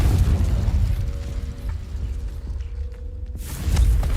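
A Confringo fire spell blasts in Hogwarts Legacy: a loud rumbling explosion at the start that fades into a low resonant hum, then a second burst swells near the end.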